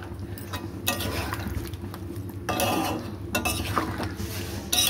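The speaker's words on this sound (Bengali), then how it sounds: "মশলাটা এবার মাংসর সাথে ভালো করে মিশিয়ে নেব" Biryani masala being stirred into meat in a home kitchen pot, with repeated scraping and clinking of a utensil against the metal in bursts across the clip, close and moderately loud, no voices.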